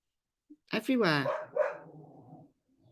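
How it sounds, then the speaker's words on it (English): Dogs bark close by in a short burst of a few loud, harsh barks lasting about two seconds, with a faint trailing sound after. "I'm going to have to go and sort the dogs out."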